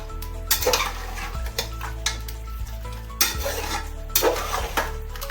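A spoon stirs mutton in a pot, giving a few scraping, clinking strokes against the metal with a soft sizzle underneath, close and moderately loud, with no talking.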